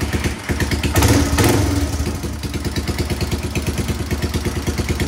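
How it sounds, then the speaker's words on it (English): 1995 Yamaha Timberwolf 250 2WD ATV engine with freshly cleaned carburetor jets starting up, a brief revving surge followed by steady, rhythmic thumping idle. "so it runs fine. It'll even pick up and idle right when it warms up."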